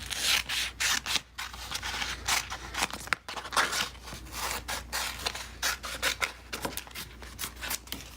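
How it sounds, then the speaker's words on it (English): Scissors cut vinyl letters for a DIY wooden organizing box, giving quiet, steady snipping and rubbing strokes that repeat closely for several seconds. "So now I have to cut the vinyl out."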